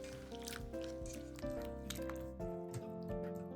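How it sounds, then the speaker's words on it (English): Raw horse mackerel pieces stirred by hand in salt water: soft wet squishes, drips and small sloshes in an irregular rhythm, close and moderately quiet over a faint background hum. "I mix and distribute the salt water to them"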